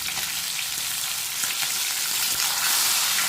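Pomfret fish frying in hot oil, a steady dense sizzle with crackling pops, close and loud with no voices for a few seconds.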